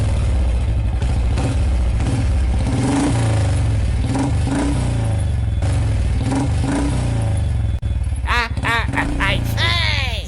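A motorbike engine revs loudly with a deep, throbbing rumble that holds steady for several seconds, then voices break in with sharp, rising exclamations over the engine near the end.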